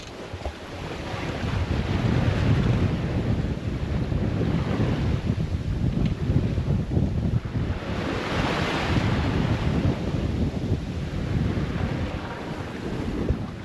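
Ocean waves and strong wind rush steadily around a sailboat crossing the Pacific from Tahiti to Hawaii, a dense, continuous roar of surf and wind noise on the microphone with no talk.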